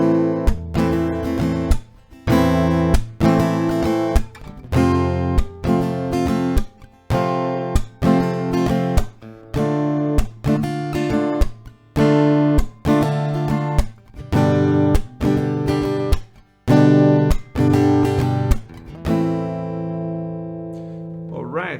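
Acoustic guitar strummed through the repeating chord progression of a song, steady rhythmic strokes with chord changes every few beats, close and loud, ringing out at the end.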